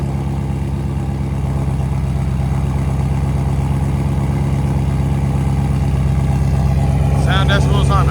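Straight-piped 2017 Ford Mustang GT350 with a 5.2L Voodoo V8 and headers idles with a loud, steady, deep burbling rumble throughout, close up, with a brief higher sound near the end.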